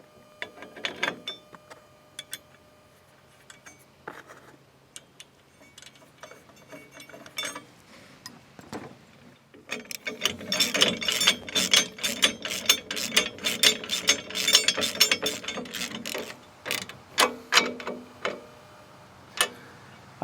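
Nuts being run onto a U-bolt with a ratchet wrench to mount a tractor tool bar, scattered clicks and knocks at first, then rapid close ratcheting bursts over several seconds, no talking.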